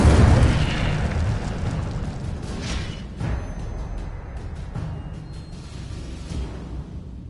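An Incendio fire spell from Hogwarts Legacy bursts with a heavy, booming blast at the start, then trails off into a rumbling roar with a few softer whooshing pops after it.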